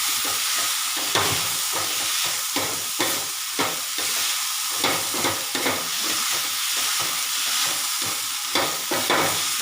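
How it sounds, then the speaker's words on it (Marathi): Green chilies being crushed and ground for a spicy Maharashtrian thecha, giving repeated grinding and pounding strokes over a steady sizzling hiss, close and moderately loud, with no talking. "आता याने रगडणार आहे, मस्त रगडा करायचा छान"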